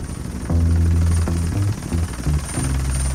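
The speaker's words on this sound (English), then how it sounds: "Oh, a helicopter." A helicopter passes over an outdoor wilderness location, its low rotor thump and engine drone clear and fairly strong, the throbbing pitch wavering as it moves overhead with no talking.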